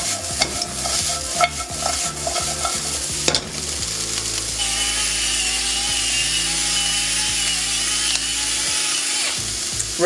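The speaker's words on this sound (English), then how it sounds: "really good twist of pepper." Pepper mill twisted over a pan of browning chopped onions and garlic, a run of quick rhythmic ratcheting grinds in the opening seconds, followed by a steady loud sizzle of frying.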